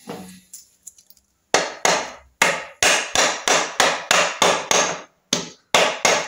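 A hammer taps the rotor of a Triumph Trident T160 motorcycle onto its shaft key, after faint handling noises, with about a dozen sharp close metallic knocks in a steady rhythm.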